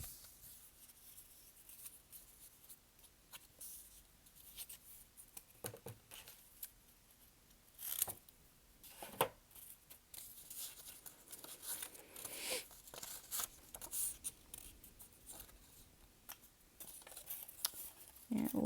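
Scissors cutting craft paper strips in half for a caterpillar craft, a run of quiet, intermittent snips and paper rustles spaced irregularly, close by with no talking.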